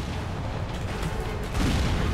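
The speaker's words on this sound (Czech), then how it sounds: "on po nás střílí nějaké raketky" Rockets fired at the player in the PC game Batman Arkham City: a dense, rumbling barrage of booming blasts that swells louder near the end, with no voice over it.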